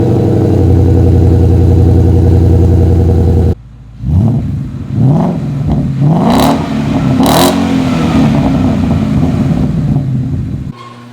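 A 2016 Ford Mustang GT with its exhaust, close and loud, drones steadily at first, then after an abrupt cut sits at idle and is revved several times, each blip rising and falling.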